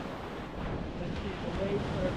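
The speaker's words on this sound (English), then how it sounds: "the waves are a bit strong" Ocean waves break on Platanias Beach at golden hour, a steady broadband roar of surf with wind buffeting the microphone, continuous and fairly close.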